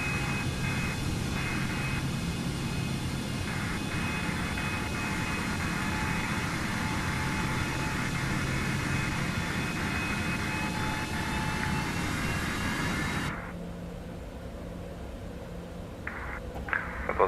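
Steady, loud roar and whine of Citation X jet engines in Microsoft Flight Simulator at London City Airport, droning continuously before dropping abruptly to a quieter hum near the end.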